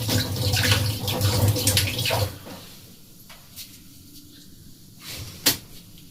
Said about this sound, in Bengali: একটু হাতটা ধুয়ে নিই।